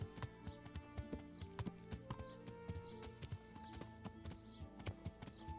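Horse hooves clip-clop in a steady trotting rhythm in the video game Kingdom Come: Deliverance, fairly close, with faint game ambience underneath.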